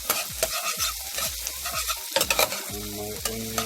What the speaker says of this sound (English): So I'm sauteing my scallion,